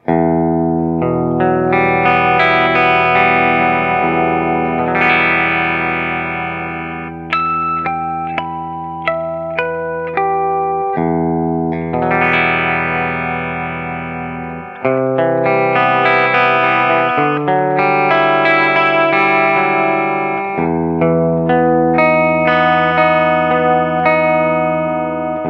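Electric guitar on its bridge pickup, run through an effects chain, ringing out loud sustained chords and melodic lines with a bright, sizzly tone and a few short pauses.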